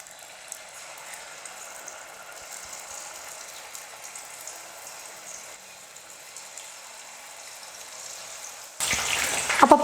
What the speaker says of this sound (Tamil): மிக்ஸ் பண்ணி வச்சுருக்கிற காளானை எண்ணெயில் போட்டு சில்லியாக பொரித்து எடுத்துக்கலாம்.